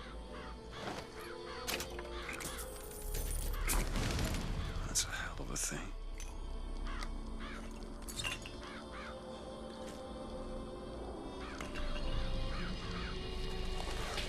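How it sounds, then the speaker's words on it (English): Murderous crows summoned by the Murder of Crows vigor in Bioshock Infinite caw in bursts among game sounds, with someone talking over them. "to summon murderous crows"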